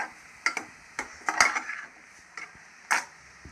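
A spoon scrapes and knocks against a pot of tomato and chicken pepper soup in irregular strokes, sharp clinks over a quiet background.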